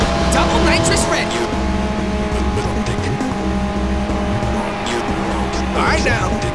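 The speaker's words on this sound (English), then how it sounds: "Fired off some nitrous!" Nitrous boost firing in the arcade racer Ridge Racer 6, a loud revving engine roar with a sustained surging whine over squealing tires, set beneath background music and excited talk.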